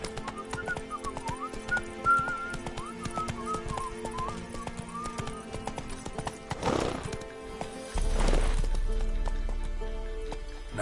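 Hooves of Geralt's horse Roach in the fantasy game The Witcher 3: Wild Hunt clip-clop in a steady rhythmic gait, loud and close, with whistle-like tones early on, a brief whinny and a louder rumbling passage near the end.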